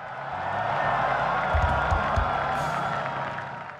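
A church congregation cheers and applauds in a broad, sustained crowd roar, with a few louder claps and whoops rising briefly near the middle.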